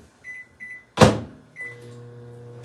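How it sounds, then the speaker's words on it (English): A microwave oven tempering chocolate beeps twice, then a door thumps shut loudly. Another beep follows, then a steady low hum as the oven runs. "I am going to temper them in my microwave."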